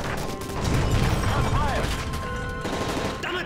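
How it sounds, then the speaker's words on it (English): Gunfire in Call of Duty Modern Warfare 3 aboard a plane, dense overlapping shots and crashes in a steady loud barrage, with shouting voices mixed in. "That's gunfire!"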